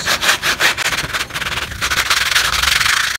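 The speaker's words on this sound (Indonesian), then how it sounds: "sisa-sisa kertas ini yang nggak kena pahat, kalian bisa bersihkan menggunakan amplas ya" Sandpaper rubbed over a carved wood panel makes steady, close, rasping strokes in a quick back-and-forth rhythm, loud and continuous with no talking.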